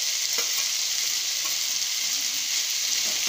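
Vegetable kurma with tomatoes and curd is stirred in a hot pan: a bright, steady sizzling hiss with a few soft scraping clicks, close and continuous without speech.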